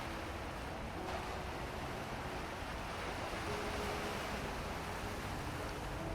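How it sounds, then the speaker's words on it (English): Gentle waves wash onto a beach of clear blue water by a European village, a steady, soft, continuous surf hiss with no voices. "where the waves create a gentle sound, bringing a wonderful feeling of relaxation"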